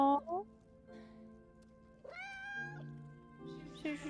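Kitten meowing in the video game Split Fiction, several short, high, rising mews spread across the moment, mixed with game music tones and interjections from players talking.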